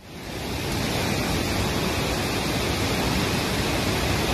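A rocky river near Ingleton Waterfalls in Yorkshire rushes like rapids, swelling within a moment into a loud, close, unbroken roar of churning water with no voices.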